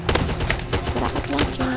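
Rapid pistol shots crack out in the Roblox game Zombie Uprising, a quick burst of loud digital gunfire mixed with game sounds while a player talks over it.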